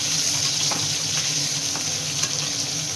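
Potatoes sizzling in a pan alongside fried tangra fish, giving a steady, close hiss of hot oil with a few soft stirring scrapes and no talking.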